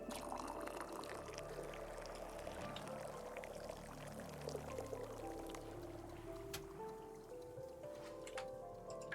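Tea being poured in the cozy tea shop video game WanderStop, a continuous trickling pour with light drips and watery splashes, fairly quiet and without speech.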